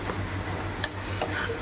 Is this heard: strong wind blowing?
no